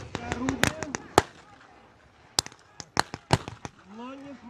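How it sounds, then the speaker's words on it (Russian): Mortar fire and other blank shots at a WWII battle reenactment of the Kaunas offensive, sharp irregular bangs in quick bursts mixed with a voice talking and distant shouts. "Снова бьет миномет."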